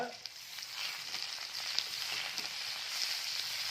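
Crab curry sizzles steadily in a pan as it is stirred, with a constant close frying hiss and scattered soft scrapes, and no voices.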